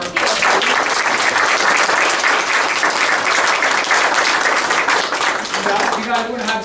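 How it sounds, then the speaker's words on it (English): A room full of people claps steadily at a school board of education meeting, a dense sustained round of applause that tapers near the end, with a voice speaking over it. "one more round of applause for"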